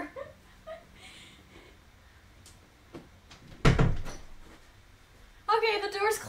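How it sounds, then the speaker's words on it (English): A room door shuts with one loud thump midway, between quieter shuffling movement, followed by a burst of noisy sound near the end. "I'm gonna go close this door"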